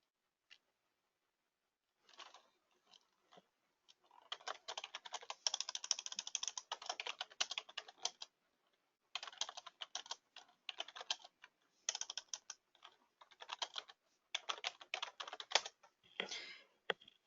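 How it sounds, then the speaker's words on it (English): Typing on a computer keyboard into a chat box during an online call, heard as quiet bursts of rapid, close key clicks separated by short pauses, with no talking. "Let me type something in the chat box."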